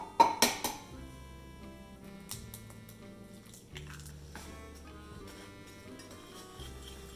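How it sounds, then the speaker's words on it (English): Eggs are mixed into madeleine batter in a bowl, starting with a few sharp clinks against the bowl, then a quieter stretch of mechanical whirring in uneven spells, close by and without talk. "We want to add 1 egg at a time. And then start mixing."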